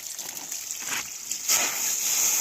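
A water spray in a tropical garden washes aphids off plants, a steady hissing gush that swells louder partway through as the stream hits the leaves.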